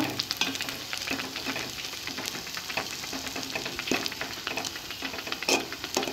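Carrots are stirred into Basanti polao rice cooking in a pan, giving a soft, continuous sizzle broken by scraping, clinking strokes of a spoon at an uneven rhythm, with no talking.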